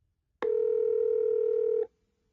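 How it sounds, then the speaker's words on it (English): An iPhone 3G places a call, giving a single steady, fairly loud tone that holds for about a second and a half before cutting off, with no voices. "You can also tap on a phone number in a text message to instantly call that person."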